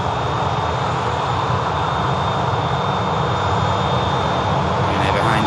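A jet airliner at Manchester Airport makes its takeoff roll, a loud continuous engine roar with a high whining tone running through it and building slightly toward the end.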